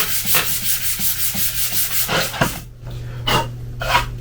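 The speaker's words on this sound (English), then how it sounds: "So I'm just going to start rubbing this wood." A random orbital sander works a piece of wood across the grain in a carpentry setting: a close, loud grinding whir with a steady low motor hum and rhythmic scraping pulses that become irregular toward the end.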